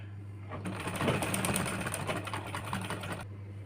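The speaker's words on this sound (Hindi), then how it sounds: "अब सिलाई लगाने के बाद हम यहाँ पे इसको सीधा कर लेंगे और सीधा करने के बाद हम यहाँ पे इसके यहाँ पे एक किनारे किनारे पे सिलाई लगा लेंगे" A sewing machine stitches along the edge of blouse fabric in one continuous burst of fast, even needle chatter lasting under three seconds, with near-silence before and after.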